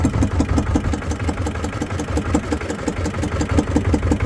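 A fishing boat motor runs steadily at close range while red mullet nets are cast off Karaburun, a rhythmic chugging drone with regular knocking pulses throughout.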